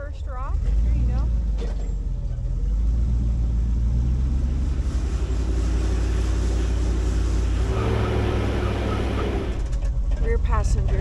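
A Land Rover Discovery climbs a rock at an off-road event with only the rear passenger wheel spinning, making a loud, steady engine drone and low rumble throughout under voices, with a grinding surge near the end.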